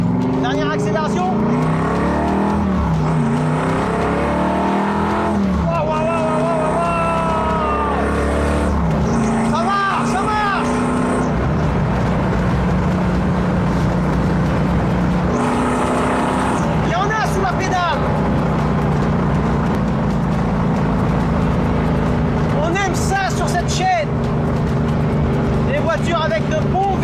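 An old-school V8 car accelerating, its low engine rumble running under voices and music throughout rather than standing out alone.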